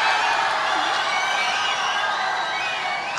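Sustained, loud applause from a large audience at a Tamil comedy debate stage show (pattimandram), dense steady clapping with faint cheers running evenly throughout, no speech over it.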